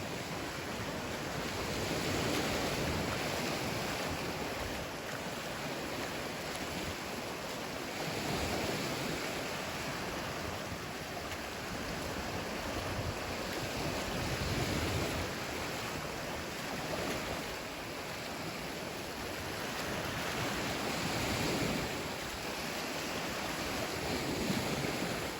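Ocean waves wash steadily onto Sanibel Lighthouse Beach on the Florida Gulf Coast, a continuous broad surf roar with gentle swells and some wind rumble, no voices.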